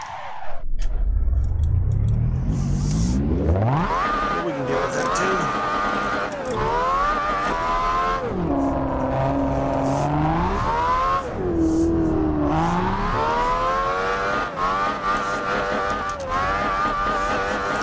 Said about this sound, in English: Instead, I'm going to spin out.